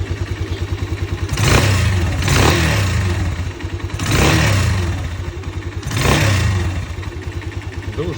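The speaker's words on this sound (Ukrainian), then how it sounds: "Так, ну що, слухаємо двигун." A Musstang Region 150 motorcycle engine idles after a valve adjustment with a steady, clattering putter, rising in several revs that swell and fall back to idle.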